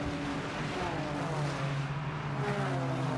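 Porsche race cars sweep through Copse Corner at Silverstone, a continuous loud engine roar with shifting pitch as several cars pass in close succession, heard from trackside.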